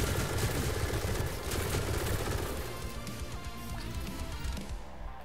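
Turret in the video game Atomic Heart firing training rounds, a rapid burst of gunfire that runs dense for a few seconds, then thins out under game ambience.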